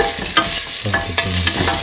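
Ginger pieces sizzling in a hot pan with salt added, close and fairly loud, with quick scraping strokes of a spoon or spatula stirring them over a steady fry.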